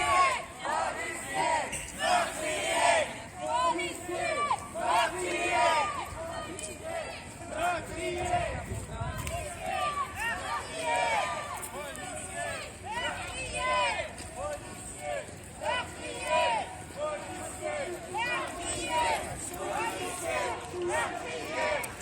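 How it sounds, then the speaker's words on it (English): A protest crowd against police killings chants in loud, rhythmic repeated phrases, many voices shouting in unison with steady pulsing cadence, close and continuous for the whole stretch. "Crowd chanting right now, police are murderers, is what we're hearing right now."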